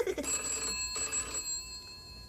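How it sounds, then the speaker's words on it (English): A telephone rings in a children's hideout, a steady electronic bell tone holding for about two seconds, fairly quiet with no talk over it. "Is that the phone in the hideout ringing?"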